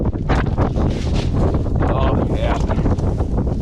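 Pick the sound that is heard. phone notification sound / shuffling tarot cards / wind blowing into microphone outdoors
wind blowing into microphone outdoors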